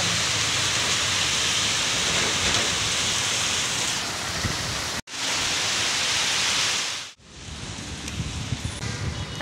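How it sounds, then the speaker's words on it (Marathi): Steady rain falls around a small hut-like stall, a dense continuous hiss that cuts out briefly twice and resumes slightly softer, with no voices. "आता पाऊस थोडा कमी झाला आहे"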